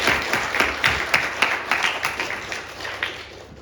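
Church congregation clapping in thanks to God at a New Year Sunday service, a sustained round of applause with distinct claps rising and falling steadily throughout, fairly close and filling the room.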